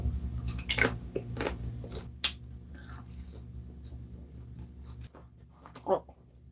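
Someone chews and bites into a garlic frankfurter topped with ketchup, giving close, crunchy, irregular bites with quiet mouth sounds and faint speech-like noise.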